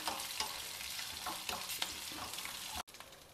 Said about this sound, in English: I am adding about 7 to 8 cloves of garlic. Just fry this also together for about a minute.